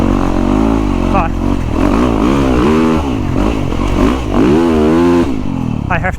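A Yamaha YZ450FX motorcycle rides a dirt track close by, its engine loud as it revs up and down through repeated rising and falling throttle bursts.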